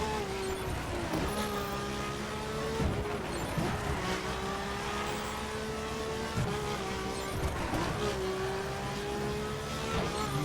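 A Ferrari in the racing video game The Crew drives on wet roads, its engine droning steadily and rising and falling in pitch with repeated shifts and revs, loud and continuous with game music underneath.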